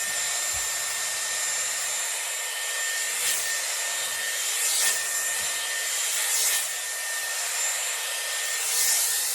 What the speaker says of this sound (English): just pop it onto your cool shot. Just run it through the hair